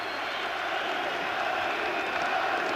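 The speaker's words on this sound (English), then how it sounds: "Crowd are going absolutely wild," A boxing arena crowd roars before a Prince Naseem Hamed world title fight, a dense and continuous wall of cheering and shouting that holds steady throughout, with no clear speech rising above it.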